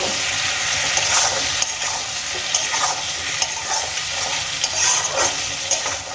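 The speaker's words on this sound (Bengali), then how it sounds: "আলুগুলোকে ভেজে নেব" Potatoes fry in a pan with a continuous hiss and crackle, broken by repeated light scrapes and clinks of stirring at close range, with no talking.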